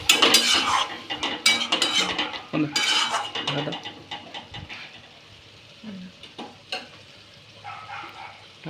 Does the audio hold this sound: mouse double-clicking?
no